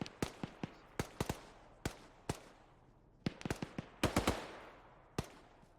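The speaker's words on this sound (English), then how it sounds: "I think I'm also hearing shots out to our 150 somewhere." Distant gunfire in the video game ARMA 3: sharp, irregular gunshots crack out one after another, some in quick bursts, with gaps of quiet between them.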